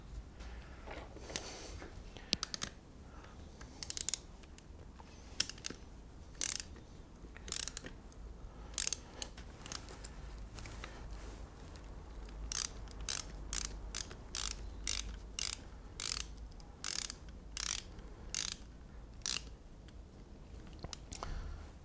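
Small screw being gently turned back into a motorbike front hand brake lever after a piston replacement, giving close, dry ratcheting clicks in irregular bursts that grow quicker and more regular toward the end.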